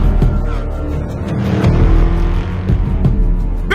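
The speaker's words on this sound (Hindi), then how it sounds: "रक्षा मंत्री की गाड़ी।" A defence minister's car drives past in a Hindi-dubbed action movie scene, a loud steady engine roar with rumbling low end and a few sharp bursts over continuous dense background effects.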